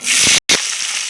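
Okra frying in hot oil left over from frying shrimp, a loud, dense sizzle filling the short clip, broken by one brief gap before the crackling resumes.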